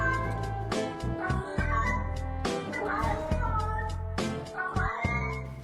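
During Elden Ring gameplay, a human voice imitates a cat, giving a few drawn-out meows among other short bursts of sound.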